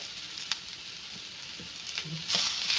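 Onions and tomatoes frying in a pan for Maharashtrian bazar amti, a soft continuous sizzle with scattered crackles and small stirring sounds, swelling louder near the end.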